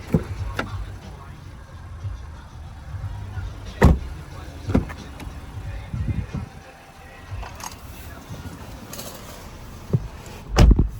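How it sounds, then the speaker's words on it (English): The electric tailgate of a 2019 Audi Q3 with a 1.5 litre petrol engine whirs as its motor drives it open and shut, with a few solid thuds and latch clunks along the way, recorded close by outdoors. "Got an electric opening and closing boot."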